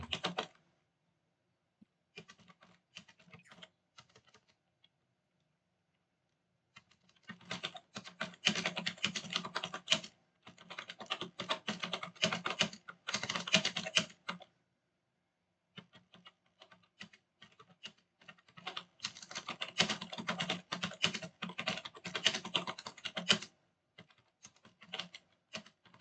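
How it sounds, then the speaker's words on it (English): Bursts of computer keyboard typing, close and fairly quiet, coming in several runs separated by short pauses, with no talking over it. "Let me type."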